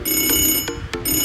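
A telephone rings in a room with a bright, electronic tone, sounding in two or three short bursts separated by brief gaps, fairly loud and close with no speech over it.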